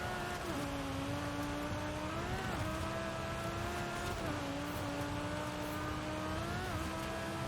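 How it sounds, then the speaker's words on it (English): A Lamborghini Urus races in Forza Horizon 5, its engine holding a steady, loud drone with a few rising and falling shifts in pitch as it accelerates and eases, and no speech. "Now this car, the Lamborghini Urus"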